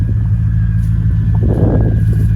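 A modified Audi S6 with a full exhaust idles and revs nearby, a loud, deep, throbbing rumble that holds steady with a slight swell in the engine note partway through.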